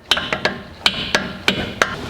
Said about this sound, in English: A couple little love taps to run the bolt out.